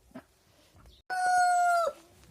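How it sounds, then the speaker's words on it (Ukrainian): A single loud rooster crow rings out close by, sustained for under a second, after quiet background shuffling. "півні"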